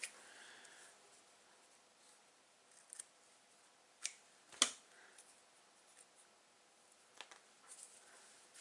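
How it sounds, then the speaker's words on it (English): Small scissors snip a thin strand of card during papercraft card making, a few faint crisp clicks and cuts scattered across an otherwise quiet room, one sharper snip standing out near the middle. "May even just cut a little strand actually."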